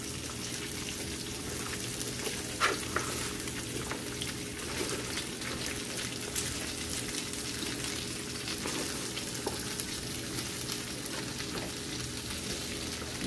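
Shredded cabbage frying in a pan, a quiet but continuous sizzle with soft watery crackles and occasional faint stirring taps throughout.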